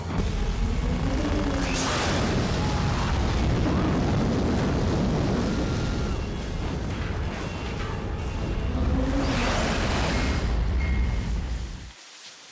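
Special-effects fire roars on the film set of Reign of Fire: a loud, continuous, close rushing blaze that swells and surges for about twelve seconds, then cuts off abruptly.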